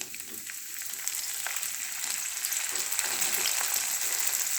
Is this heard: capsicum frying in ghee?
yes